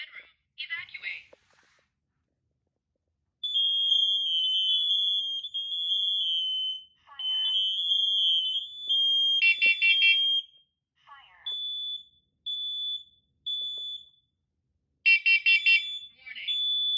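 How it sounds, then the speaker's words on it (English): A smoke alarm on a test board sounds in bursts of loud, piercing beeps, alternating with a synthetic voice announcing a warning and evacuation. "Warning. Evacuate. Smoke in master bedroom. Evacuate."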